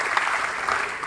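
A seated audience claps together in a steady, dense burst of applause that fills the whole short moment without pause, close and fairly loud.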